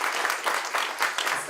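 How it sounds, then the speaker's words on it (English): Brief burst of audience applause at the Bowery Poetry venue, moderate and slightly distant, clapping in quick uneven pulses for about a second and a half. "Maybe a quick clap for their staff and the beautiful space"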